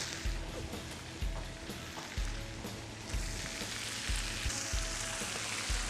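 Shrimp frying crisp in a pan for Thai chili-sauce shrimp, a steady bright sizzle with soft periodic low thumps of stirring, fairly quiet and close.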